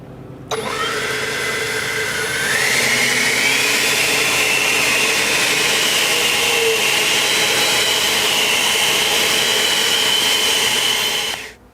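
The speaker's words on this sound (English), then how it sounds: "This is the year that you upgrade to an actual leaf blower, the Ego 650" An EGO Power+ LB6504 650 CFM battery leaf blower spins up to a loud, close, high whining rush, rises in pitch once, holds steady for several seconds, then cuts off abruptly.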